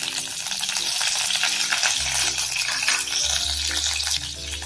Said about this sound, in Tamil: எண்ணெய் சூடாயிடுச்சு இப்போ நாம எடுத்து வச்சிருந்த கொஞ்சமா கடுகு அப்புறம் கொஞ்சம் கருவேப்பிலை ஆட் பண்ணிக்கலாம்ங்க